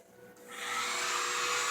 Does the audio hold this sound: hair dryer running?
yes